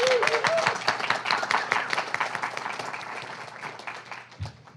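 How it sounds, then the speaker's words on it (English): An audience at a creative writing reading breaks into applause, a dense patter of many hands clapping close by that gradually thins and fades toward the end. "round of applause for that, please"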